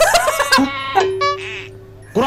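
A goat bleats in a few short, wavering calls, close and fairly loud, with a long sustained tone in the middle of the sequence and no talking over it.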